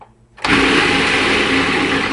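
A blender starts abruptly with a loud whirring roar and grinds cashews into a grainy breading, holding a steady high-pitched whine until the end.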